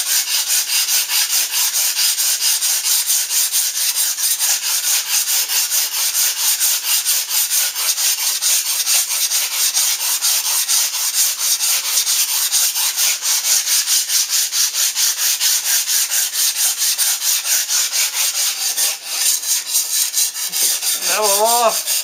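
Sticky-backed sandpaper rounds over the top metal edge of a forge, a loud, close, continuous rasping rub in fast even strokes that runs for the whole stretch without talking.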